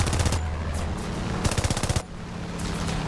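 Rapid machine gun bursts from a BF2C-1 biplane strafing ground targets in War Thunder's air realistic mode, several short staccato volleys over a steady engine drone, fairly close and loud.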